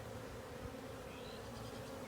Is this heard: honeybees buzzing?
yes